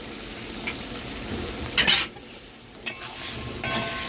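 Crab frying with spice paste of chili, ginger, salt and turmeric in a pan, a continuous close sizzle broken by a few loud stirring scrapes, no voices.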